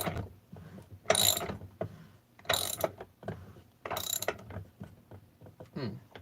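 A ratchet on a case-processing press is cranked down in three or four short bursts of rapid clicking, close and fairly loud, separated by quieter mechanical handling sounds.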